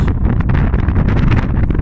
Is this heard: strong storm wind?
yes